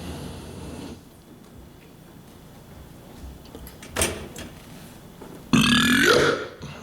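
A man on stage at a stand-up comedy show lets out a loud, drawn-out burp into the microphone, preceded by quiet room murmur and a short thump.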